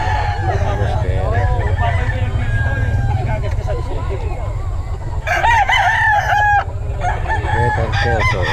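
A Sweater Kelso gamecock rooster crows loudly and close by, with repeated crows and clucks over a steady low rumble and background chatter from people nearby.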